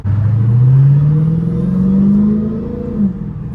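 A loud Dodge Hellcat V8 revs hard under throttle in city traffic, a deep close rumble rising steadily in pitch for about three seconds before easing off.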